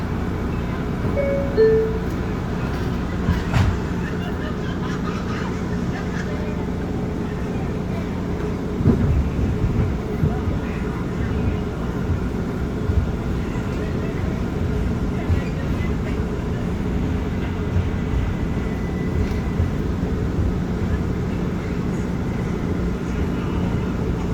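An R179 J subway train on the BMT Nassau Street Line runs in a steady, low rumble heard from inside the car, with faint rattles and a brief squeal, constant and even throughout.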